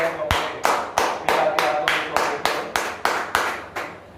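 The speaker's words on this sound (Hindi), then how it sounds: "मुझे देखो मत, ताली बजाओ।" A church congregation claps hands in a steady, even rhythm, about a dozen sharp claps filling a room, with a voice speaking faintly underneath.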